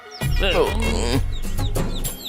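A rooster clucks in a run of warbling calls close by, with sharp chirps mixed in, heard briefly in a comic film scene.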